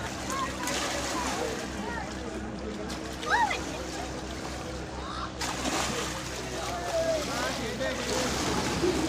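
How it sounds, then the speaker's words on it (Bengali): Waves lap and splash along the Ganges riverbank at Burul, where fishing boats are moored, giving a continuous watery wash with occasional louder slaps, under nearby people talking and a faint whistle-like call. "কি সুন্দর ঢেউ দিচ্ছে দেখ"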